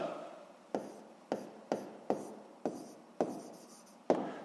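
A pen writes in a notebook during a sixth-grade math exercise, making about seven crisp, evenly spaced strokes close up, with faint room tone between them.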